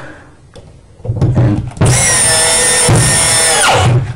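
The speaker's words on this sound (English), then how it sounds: "a screw gun is a good tool to have when you're doing this" A screw gun whirs in long, loud bursts while driving screws into the wooden seat assembly of a corner sauna, preceded by a few quieter handling knocks.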